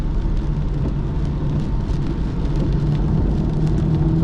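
An Aston Martin DB9 laps Brands Hatch in heavy rain, with a constant roar of engine, tyre spray and rain noise. The sound is dense and unbroken, with no talking.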